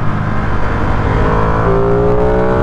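A Ducati Streetfighter V2 naked bike engine pulls hard and loud, its tone climbing steadily as it accelerates through the revs, close up and with no talk.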